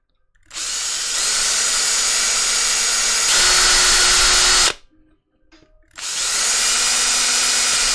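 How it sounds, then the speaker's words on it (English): Power drill boring holes into a Dreamcast console shell through a 3D-printed guide, two long loud high-pitched whining runs separated by a brief pause with faint handling noise. "we're going to drill the other 3 holes"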